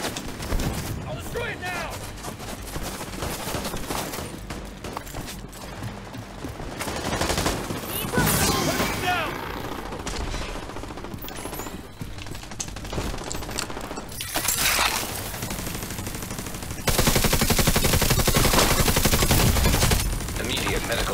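Heavy automatic gunfire and shattering impacts in a The Division 2 firefight, sustained bursts that swell louder toward the end, with a player shouting over the shooting.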